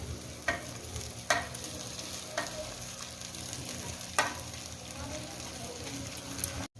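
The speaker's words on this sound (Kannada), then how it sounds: "ಇದನ್ನು ಈ ಒಗ್ಗರಣೆಗೆ ಹಾಕ್ತೀನಿ." Poha mixed with turmeric powder tossed into a hot oil tempering in a pan, giving a steady close sizzle with a few sharp stirring scrapes spaced through it.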